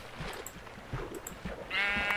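Soft footsteps and game noises patter along in Minecraft until a sheep's bleat rises near the end, steady and clear, lasting about half a second.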